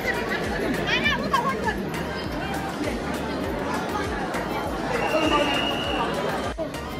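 Busy crowd chatter fills the Sant Dnyaneshwar Maharaj Samadhi temple in Alandi on Ekadashi, a steady dense babble of many voices with occasional sharper calls, continuous and close throughout.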